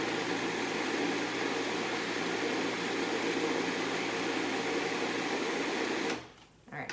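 A food processor whirs steadily while mixing hummus, a constant close motor drone that cuts off abruptly near the end.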